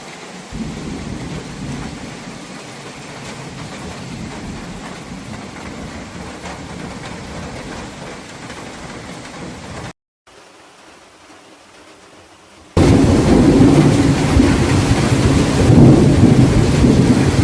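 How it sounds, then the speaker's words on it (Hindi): Steady heavy rain hisses throughout, with deep thunder rumbling underneath; it drops out briefly, then returns louder. "आप देखिए कि कितनी प्यारी बारिश हो रही है।"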